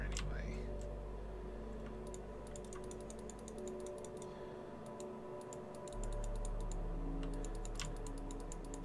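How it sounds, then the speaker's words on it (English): Rapid computer mouse clicking while building pixel art in Minecraft, with bursts of sharp clicks over a steady hum and background noise. "Some people might wonder why I'm clicking."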